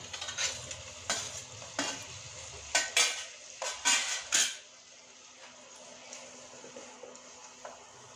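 Tomatoes added to a pan of fried onion petals and capsicum for chili soybean, a soft sizzle under a series of sharp spatula scrapes and clanks against the pan, loud at first then settling into quiet frying.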